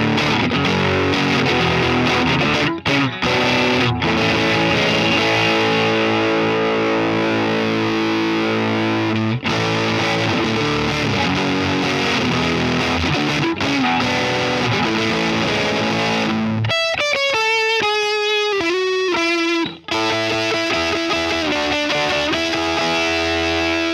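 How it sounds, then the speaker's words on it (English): An electric guitar runs through a Keeley-modded Boss DS-1 distortion on a Line 6 POD Express, playing loud, sustained crunchy chords with brief breaks, then a cleaner-sounding single-note passage near the end before the chords return. "Next we have Distortion, which is a Keeley modded Boss DS1"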